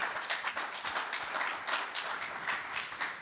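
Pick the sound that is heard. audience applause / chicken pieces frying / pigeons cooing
audience applause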